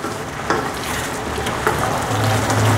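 Sweet and sour pork and beans stirred in a pan, with a steady sizzle of frying under occasional scraping strokes of a spoon against the pan, close and moderately loud, with no talking.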